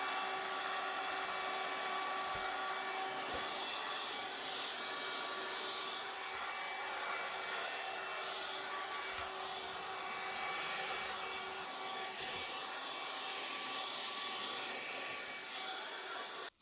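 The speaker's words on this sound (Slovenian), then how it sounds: "Sesalca se ne boji" A vacuum cleaner runs indoors in a steady, continuous drone with a high whine, holding an even level throughout with no talking.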